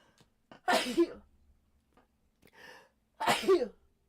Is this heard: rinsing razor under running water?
no